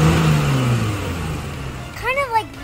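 A person imitates the lesser nighthawk's call as a low, rising, engine-like vroom that swells and fades, followed by a short burst of voiced warbling at the end.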